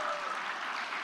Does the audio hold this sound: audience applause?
yes